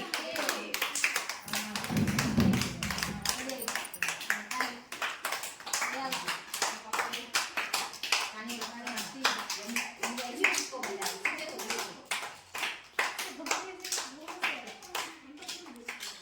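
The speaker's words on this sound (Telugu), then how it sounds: "క్లాప్స్ కొట్టాలి, మిగతా వాళ్ళు క్లాప్స్ కొట్టాలి." Children and mothers clap in steady rapid bursts during an anganwadi Children's Day game, close and lively, with a voice calling out over the clapping.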